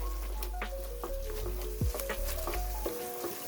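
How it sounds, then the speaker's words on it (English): Tomato paste being stirred into ground beef in a pan: soft scraping and spoon clinks over a steady sizzle, with a low hum underneath and no talk. "I'm gonna add that directly to the ground beef, and I'm gonna give this a stir until it's well combined."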